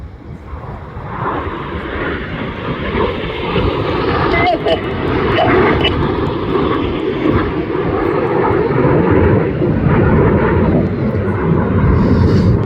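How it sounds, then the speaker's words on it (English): RAF Red Arrows jets flying past at the Midlands Air Festival 2025, a loud sustained engine roar that swells and holds for many seconds, with a commentator talking over it. "Enid from the left, Hannah from the right for the 5-4 cross."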